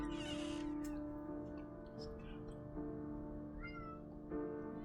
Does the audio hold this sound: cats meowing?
yes